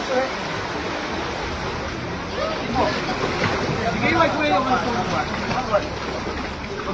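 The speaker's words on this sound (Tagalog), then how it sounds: "Nakakatakot nga kasi ang lalakas ng alon ngayon." Strong sea waves surging at a cave entrance in El Nido, a constant loud wash of churning water and spray, with voices faintly mixed in.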